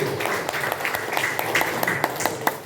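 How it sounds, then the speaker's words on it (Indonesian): Audience applause at an Indonesian regional legislative campaign gathering, a steady patter of many hands clapping for a few seconds at moderate distance. "Tepuk tangan buat kita semua."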